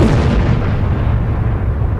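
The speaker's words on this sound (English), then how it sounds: "That tiny explosion instantly combusts with floating coal dust, triggering a massive blast." A coal mine methane explosion ignites floating coal dust into a massive blast, heard as a loud, sustained rumbling roar with no distinct sharp onset, and no voices.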